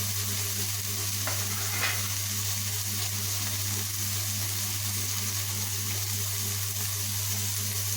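Ground coriander and cumin sizzle steadily in hot oil, a constant fizzing hiss over a low, even hum that holds at the same level throughout with no voices.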